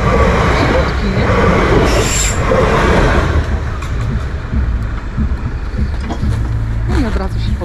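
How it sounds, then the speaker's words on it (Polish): A train passes a railway level crossing while the barrier is down, producing a loud, steady rumble and rattle of wagons that lasts throughout, with faint voices nearby. "musimy czekać, aż szlaban się podniesie, bo właśnie przejeżdża pociąg"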